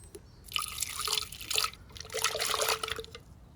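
Water is poured into a masala paste for a Goan clam curry. It comes in two close bursts of splashing and trickling, with no voices.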